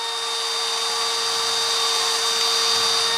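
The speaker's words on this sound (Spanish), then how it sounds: "Lo ponemos en la rápida y taladramos." Cordless 18V hammer drill, a Makita replica, boring through thin iron: a steady high-pitched whine with a constant tonal motor note, loud and uninterrupted throughout.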